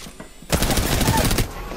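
A single loud gunshot fired in a Call of Duty–style online shooter game, one sharp burst followed by a short decaying tail.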